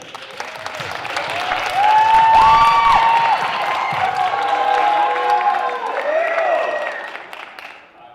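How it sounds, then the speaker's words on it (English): A high school auditorium crowd applauds and cheers for the Mr. Tucson High pageant contestants, a dense sustained wash of clapping that swells loud in the middle and fades out, with a whistle or tonal sound riding over it. "please give a round of applause for your Mr. Tucson High contestants"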